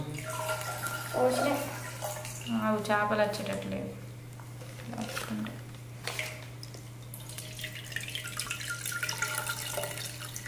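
Water splashes and trickles steadily into a fish aquarium while a person talks over it, with a low constant hum underneath.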